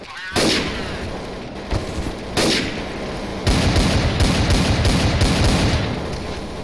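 Loud close gunfire from the video game Counter-Strike: Source, a few sharp isolated shots followed by a long rapid burst of automatic fire, with a voice briefly heard underneath.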